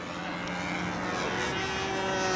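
A B-25 model airplane flies overhead in windy conditions, its engine making a continuous buzzing drone that swells slightly louder, with faint voices nearby.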